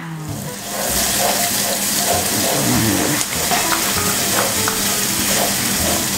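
Blended spice paste sizzling loudly as it hits a pan of stir-fried tempeh and green beans, a burst of frying that swells and stays steady with faint stirring clinks.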